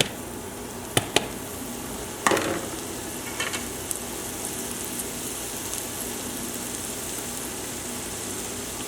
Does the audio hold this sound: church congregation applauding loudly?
no